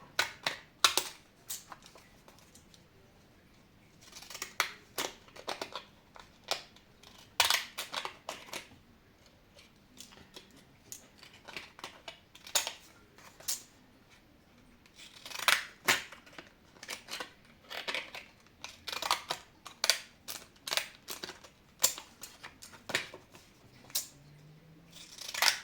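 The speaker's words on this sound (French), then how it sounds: "je vais égaliser tout ça avec les ciseaux." Scissors snip through paper and postcards for scrapbooking, repeatedly in quick bursts of short, crisp cuts, close up and alone, with brief pauses between runs of snipping.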